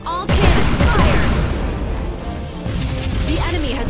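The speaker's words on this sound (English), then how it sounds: "All cannons fire!" A volley of cannons fires in a space battle in the video game Sunrider, with a sharp blast followed by rolling booms and crashing impacts, loud and dense, settling into a sustained rumble.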